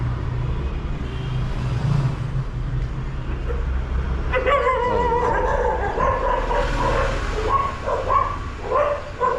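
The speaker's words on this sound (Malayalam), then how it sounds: "പട്ടികൾ" Dogs on a street in Mattancherry yelping and barking in several excited bursts, moderately near, mixed with passing vehicle noise and general street hum.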